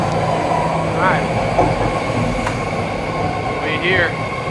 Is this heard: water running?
no